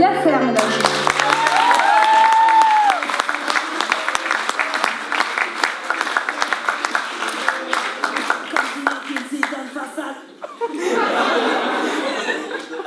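Applause for Yasser at a BOOST TALKS 2018 event fills the room with dense, steady clapping, mixed with chuckles and laughter and a voice speaking over it, before tapering near the end.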